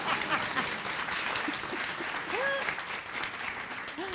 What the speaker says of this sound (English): We have to give this lady a round of applause.